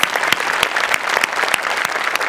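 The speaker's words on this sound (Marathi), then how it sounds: "आपल्या शो करता एकदा जोरदार टाळ्या वाजवूया" A theatre audience claps loudly and continuously at a comic tamasha show staged as a royal court performance, the applause dense and close with a few sharp individual claps standing out.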